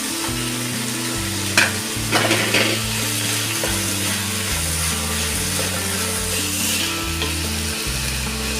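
Tomatoes tipped into vegetables frying in a pan for veg biryani, stirred through with a steady sizzle and a few scraping knocks of the spoon, close and continuous, with music playing over it.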